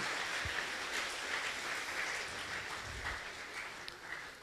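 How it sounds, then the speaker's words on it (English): Audience at a fireside chat applauds in a steady, faint wash of many hands heard from a distance, with no clear voices above it. "Round of applause for his parents"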